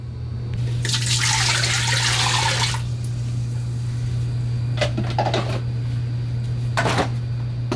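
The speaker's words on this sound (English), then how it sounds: "We're gonna throw some water in there. 1 cup of water." Water poured into a Ninja Foodi 14-in-1 OL601 pot, a short splashing pour lasting about two seconds over a steady hum, followed by a few light clinks and knocks.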